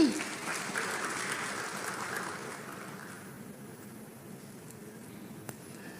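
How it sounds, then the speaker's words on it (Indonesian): A congregation at a church service breaks into applause that starts loud and full, then gradually thins and fades over several seconds, with a faint voice underneath. "Mari kita tepuk tangan buat Tuhan Yesus."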